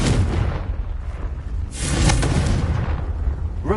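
Confringo blasting spell explosions from a Harry Potter video game, a few loud booming bursts in quick succession with crackling decay, close and forceful.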